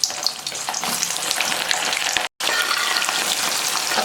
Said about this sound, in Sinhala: අපි දැන් ඒ ටිකත් තෙල් එකට දාලා බ්ලාන්ච් කරගමු.